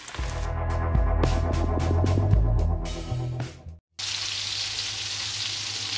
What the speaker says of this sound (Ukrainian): Смажимо цибульку до прозорого кольору.